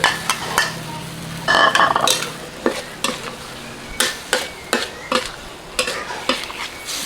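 Large fresh shrimp are stir-fried in a pan with curry powder, a loud close sizzle punctuated by a steady series of spatula scrapes and knocks against the pan.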